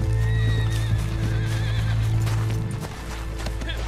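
A horse in the video game Red Dead Online neighs loudly and close, a long whinny over clip-clopping hooves and a steady low rumble, fading slightly toward the end.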